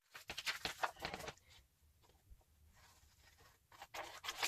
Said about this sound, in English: I'm going to use my scissors and I'm going to cut out this checklist.